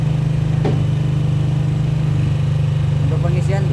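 Yamaha NMAX scooter engine revved above 2000 RPM while checking a warning indicator fault, a steady, close, buzzing drone that holds even, with a voice speaking over it near the end.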